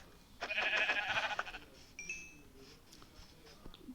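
A single sheep bleats in Minecraft, clear and mid-loud, followed by faint clicks and quieter background noise.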